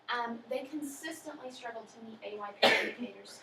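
During a school stakeholder presentation, a short, sharp sneeze bursts out near the end, heard over a person speaking steadily throughout.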